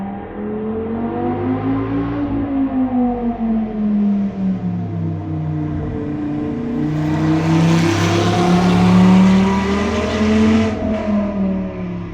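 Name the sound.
Dodge Viper engine revving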